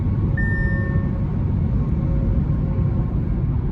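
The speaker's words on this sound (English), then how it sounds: "But wheels are just a tad loud, these 19-inch alloys" Tire and road roar from 19-inch alloy wheels on a 2018 Audi S5 Prestige, a steady low rumble heard from inside the cabin with a brief faint electronic tone, no talking.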